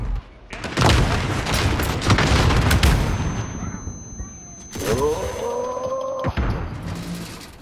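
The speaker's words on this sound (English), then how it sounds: "Fucking stun grenade, bro." A stun grenade goes off in a hardcore video game shooter amid dense gunfire, a loud sustained burst of blasts followed by a ringing, tonal daze effect that cuts out abruptly near the end.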